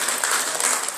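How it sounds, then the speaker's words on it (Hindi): A crowd at a devotional Bhagwat katha gathering bursts into dense applause for a mother, a short, loud, continuous wash of clapping. "माता जी के लिए ताली है।"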